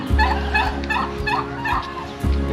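Turkeys gobbling close by on a roadside stop, repeated rapid gobbles in bursts over a steady low rumble of background noise.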